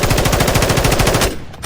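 An M4 rifle in a first-person shooter, XDefiant or Call of Duty, fires a loud, rapid automatic burst of evenly spaced shots that cuts off abruptly just before the end.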